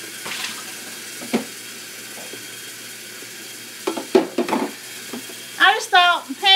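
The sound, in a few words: washing dishes at kitchen sink with running water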